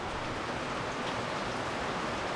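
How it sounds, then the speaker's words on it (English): Steady, dense rain pouring outdoors around a parked International 4700 dump truck, a continuous hiss of heavy rainfall with no talk. "All right, so it's pouring the rain."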